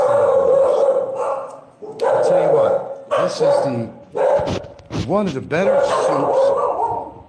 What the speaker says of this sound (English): Pardon the dog, somebody's just come over